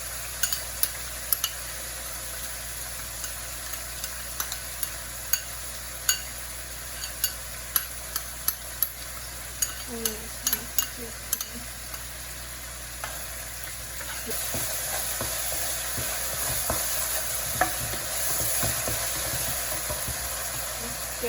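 Spices being stirred into fried rice in a pan, with a steady sizzle under repeated scraping clicks of the utensil; the frying grows louder and brighter in the last stretch.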